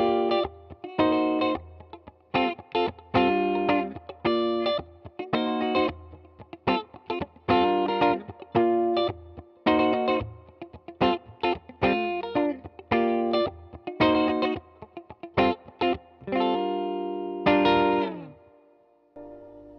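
Choppy, percussive funk riffing on a Tokai LoveRock electric guitar with humbucker pickups, played through effects with distortion and chorus: tight, muted staccato chords stabbing in a quick rhythm for about twenty seconds, ending on a sustained ringing chord.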